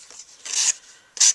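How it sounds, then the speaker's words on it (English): A small sanding block rubs along the edge of cut paper at a crafting desk, giving three short, close, raspy scrapes: a faint one, a longer stroke, then a final quick swipe. "I'm just going to take my little sanding block here"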